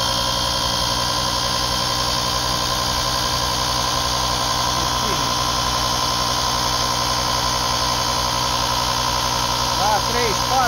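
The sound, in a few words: Utrai Jstar 5 jump starter's built-in air compressor running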